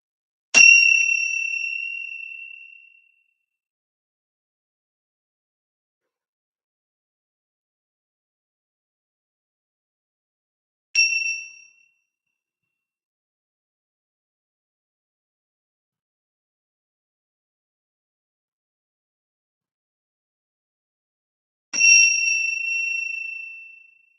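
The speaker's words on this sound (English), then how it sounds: "you hold it until you don't hear the ringing of the symbol anymore" A cymbal, struck during a breathing exercise, rings out three times with long shimmering decays, each tone fading away into silence; the middle strike is brief and softer, the first and last sustain for a few seconds.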